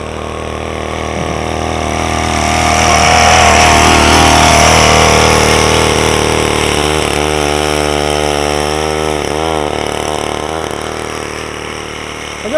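Motor cultivator converted into a snowmobile, its small engine running loudly and steadily on a snowy test ride, with rising and falling revs and a brief whining pitch change near the end.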